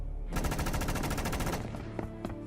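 A fast, loud burst of machine-gun fire, a rapid rattle of evenly spaced shots lasting over a second, followed by a few scattered cracks.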